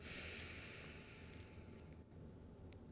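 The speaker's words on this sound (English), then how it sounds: "Deep breath in and out." A slow, deep exhale during a yoga stretch, heard as a long breathy rush that fades steadily over about three seconds, close and soft with no talking.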